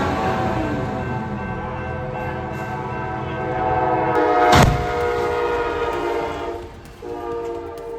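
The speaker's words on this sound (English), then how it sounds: "The truck was struck violently by the Amtrak train at the crossing" An Amtrak train sounds its horn at a railroad crossing, a loud sustained blast over steady rumbling rail noise, with a sharp impact burst midway.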